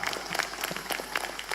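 A crowd of elementary schoolchildren at an Indonesian school's character camp claps briefly, a dense, steady patter of many hands close by.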